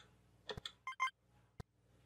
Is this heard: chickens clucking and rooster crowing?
no